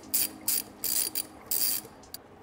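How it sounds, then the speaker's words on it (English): Ratchet clicking from a 6 mm socket loosening a hose clamp on a BMW F80 M3 during a turbo install, several short bursts of rapid ratcheting, close and clear. "take your 6 millimeter, and loosen the hose clamp."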